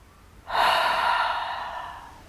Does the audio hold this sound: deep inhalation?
yes